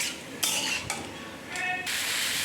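Pumpkin and potato pieces frying lightly with salt and turmeric in a pan, a soft close sizzle broken by a few brief bursts of stirring and spattering.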